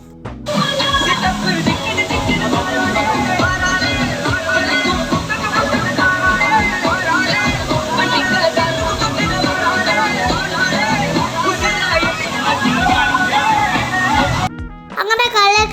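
A crowd of children and adults splashing and sloshing in a water play area at Lulu Mall in Calicut, with a constant dense wash of babble, shouts and water noise that stops abruptly near the end.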